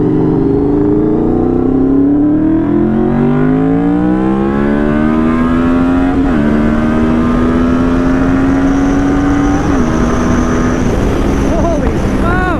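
A Honda VFR 800 motorcycle accelerates hard on a freeway, its engine note rising through the gears to a high-revving whine, with short dips at each shift. Steady wind roar sits under the loud, close engine.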